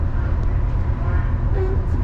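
A steady low rumble of an Irish Rail train pulling into Dublin Heuston station, with a faint squeal of brakes near the end and no talking.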